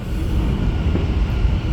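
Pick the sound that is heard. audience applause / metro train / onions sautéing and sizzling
metro train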